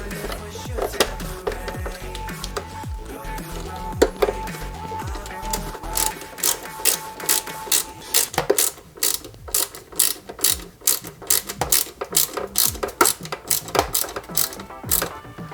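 Small screws being driven into the chassis of a 1/8-scale Jaguar E-Type model kit, with rapid ratcheting clicks from a screwdriver that come in bursts and turn into a steady sharp ticking, close and fairly quiet.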